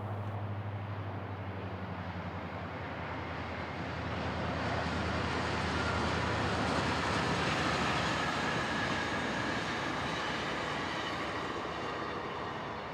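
A Metrolink commuter train on the Perris Valley line runs alongside the 215 freeway with a steady rumble that swells slightly midway, heard at moderate distance and quite faint.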